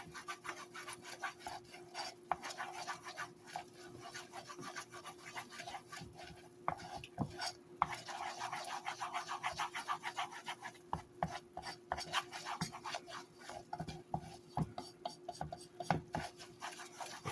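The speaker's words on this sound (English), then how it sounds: "Stir, stir, stir." A spoon stirring turkey giblet gravy in a pot, quiet irregular scraping and rubbing against the pan with a faint low simmer beneath, close but soft, no voices.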